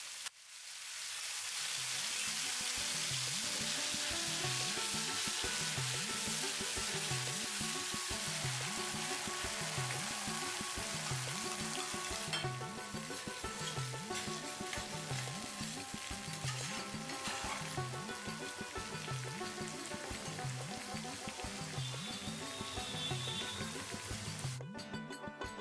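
Mustard paste fries in oil over low-medium heat as it is stirred slowly, giving a steady close sizzle with rhythmic scraping strokes of the spoon throughout.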